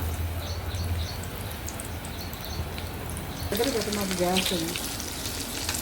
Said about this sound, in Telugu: ఒక్కొక్క ఉండని ఇలా మొత్తం మునిగేలాగా ముంచుతూ ఫోర్క్తో తీసేసి ఆయిల్లో వేసేసుకొని డీప్ ఫ్రై చేసేసుకోవాలండి